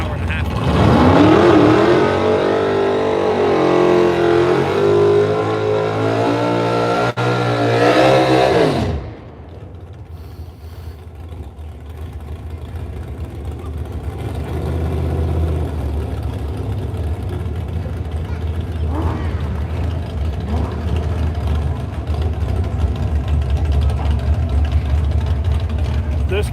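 A no-prep drag race car at Knoxville Dragway revs loud and close for about nine seconds, its engine note climbing and falling, then cuts off, leaving a quieter drag-strip background with people talking.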